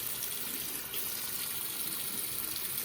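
Water running from a tap over a waterproof notepad, a soft, continuous hiss and trickle heard faintly and evenly throughout, with no talk.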